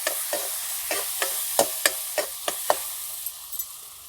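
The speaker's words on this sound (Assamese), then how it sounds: "এইখিনি মই এতিয়া অলপ সময় ভাজিম।" Taro and passion fruit vine with a little turmeric being stir-fried in a pan: a spatula scrapes in a steady series of sharp strokes over a continuous soft sizzle, close and clear with no talking.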